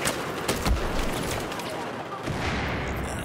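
A FAMAS rifle rattles off rapid bursts of gunfire in a Battlefield 4 multiplayer match. The shots come as loud, dense volleys mixed with the game's ambient noise, and someone talks over the shooting.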